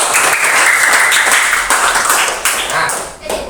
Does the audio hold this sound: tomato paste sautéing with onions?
no